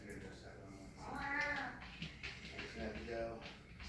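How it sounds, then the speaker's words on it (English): Wampus the cat letting out two drawn-out meows inside his habitat, close and clear against quiet background noise. "He is in his habitat, letting out the occasional meow."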